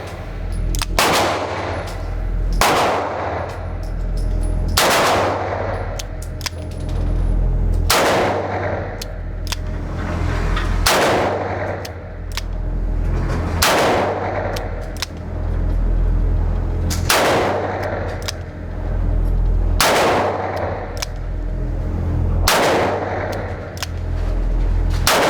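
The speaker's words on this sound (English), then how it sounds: "let's put some rounds downrange first" Smith & Wesson 327 TRR8 Performance Center revolver firing .357 rounds at a range: about eight loud, sharp shots spaced a few seconds apart, each with a booming tail, no talking.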